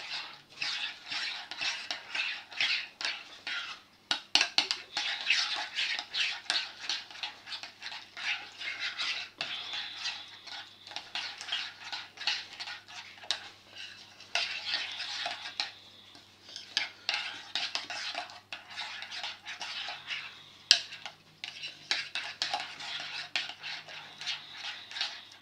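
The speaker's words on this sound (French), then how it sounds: "Là, on va tout mélanger." A utensil stirs a chicken bread filling with egg, basil and seasoning in a bowl, giving continuous close scraping and tapping with a few sharper clinks and no talking.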